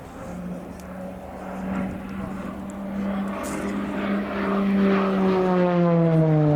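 Slovenian Air Force fixed-wing propeller aircraft flying a display at an air tattoo, its engine droning steadily and rising in pitch with a clear Doppler sweep as it passes fairly close, growing louder toward the end.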